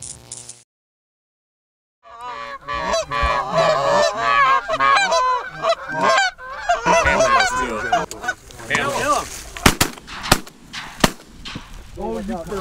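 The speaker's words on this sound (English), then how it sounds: "Just a little goose." A flock of geese honks loudly and repeatedly while flying in over a cornfield during a goose hunt, dense overlapping calls close by, with sharp shotgun blasts near the end.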